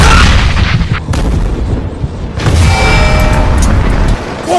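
Mortar fire explosions in a stop-motion war film battle, a loud, continuous barrage of heavy booms and rumbling blasts filling the soundscape.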